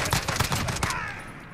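FAL OSW rifle in the game Call of Duty Modern Warfare fires a quick rapid burst of about eight close, loud cracks, then a short ringing decay with no voices.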